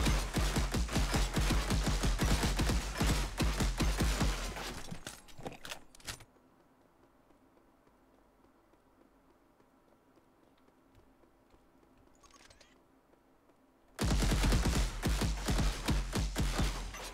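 Rapid automatic gunfire in the sci-fi shooter Project Genom, a loud stream of shots for about five seconds, a near-silent stretch, then another sustained burst at the end.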